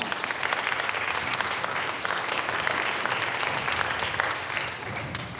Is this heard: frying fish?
no